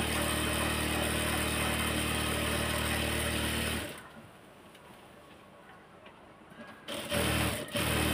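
A sewing machine runs fast and steady, stitching a salwar for nearly four seconds, then stops, leaving quiet room noise before a brief final burst of stitching near the end.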